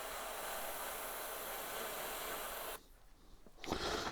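Airbrush spraying paint through a stencil onto a coloured tree ornament, driven by an air compressor set low at 15 psi; a steady close hiss runs for nearly three seconds, cuts off, then a fresh burst starts near the end.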